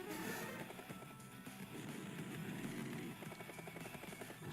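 A helicopter unit in the DS video game Advance Wars: Days of Ruin gives off a steady, whirring rotor chop with rapid pulsing beats, moderately loud and continuous throughout, with no talking.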